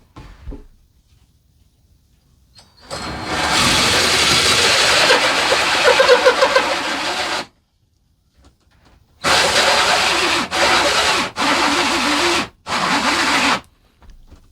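A big hole drill bores through a cabin wall in loud bursts: one long run of several seconds, then a pause and three or four shorter grinding bursts, with near silence between.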